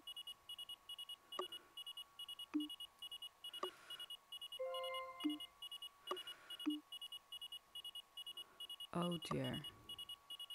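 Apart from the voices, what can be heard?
beeping alerts in the video game Flight Control HD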